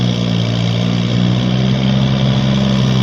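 A Kubota hand tractor's small engine runs loud and close while plowing a field, a steady droning chug with a strong low hum that never lets up.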